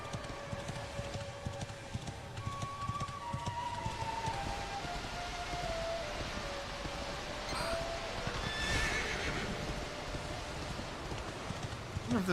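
A horse in the video game Dragon Quest XI S lets out a whinny with falling, wavering pitch, heard clearly over a steady background of ambient game sound.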